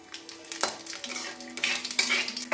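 Bay leaves and cumin seeds spluttering in hot frying oil, a close sizzle with crackling bursts and the scrape and clink of a spoon stirring against the pan.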